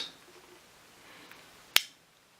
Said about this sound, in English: a switch that goes up and down, making a clicky sound